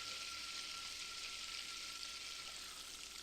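Butter browning in a pan sizzles in a steady, dense hiss that holds constant throughout, close and loud, with no one talking.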